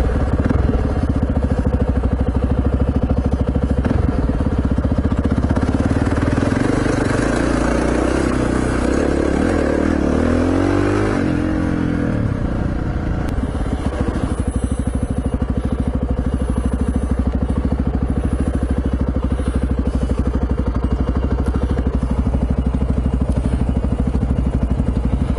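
A motorcycle engine drones continuously on Condamine River Road as the bike pushes through a creek crossing, low rumbling with a brief surging change midway and steady loud riding noise throughout.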